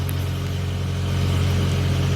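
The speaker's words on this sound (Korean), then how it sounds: "드라이브 모드에서 공회전이고요" An automatic-transmission car idles in drive after an engine-oil and transmission-fluid service, giving a loud, steady, close low hum with an even throb and no talking.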